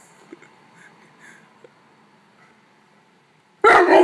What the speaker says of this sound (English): That's your big boy bark, huh?